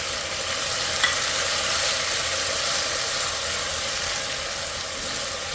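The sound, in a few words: pimentos, habaneros, carrots, celery, tomatoes, onions dropped into sizzling pot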